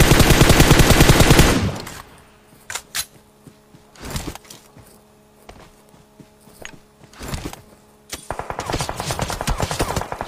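PUBG Mobile gunfire: a rapid automatic burst opens, then quieter footsteps and scattered single shots follow, and another sustained volley of rapid fire closes.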